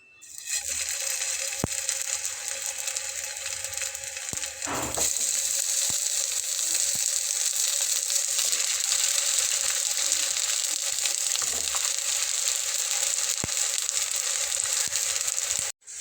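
Poha cutlets fry in hot oil over medium heat, making a loud continuous sizzle with occasional clicks and taps as pieces go in one by one.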